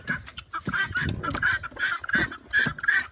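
A black-tailed backyard chicken named Rocky gives repeated clucks and squawks while being picked up, close and fairly loud, with scuffling between the calls.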